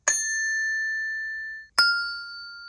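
Two Montessori bells struck one after the other to compare pitch, each a clear ringing ding that sustains and fades slowly, bright and close in a quiet room.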